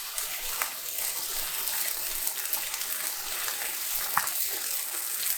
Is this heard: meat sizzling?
yes